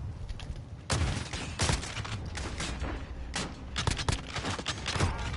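Repeated bursts of gunfire in Modern Warfare, loud, close cracks separated by short gaps, spread over the whole stretch with no talking.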